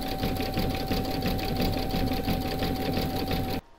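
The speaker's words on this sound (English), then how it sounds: "You're now going to pop that back into your machine and stitch round number 13, and that's going to do the zigzagging along the join" An embroidery machine stitches a zigzag along the join of an in-the-hoop mandala placemat, a steady loud mechanical whir with a constant high tone that runs alone and stops abruptly near the end.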